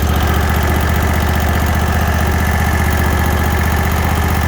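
Steady, close idle of a Cub Cadet Z-Force 48-inch commercial zero turn riding mower engine, an even low rhythmic chugging that holds constant throughout with no other sounds.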